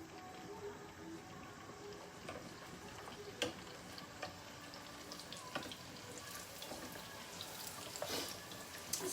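Faint sizzling of puri frying in hot oil, with scattered crackles and pops over a steady hiss.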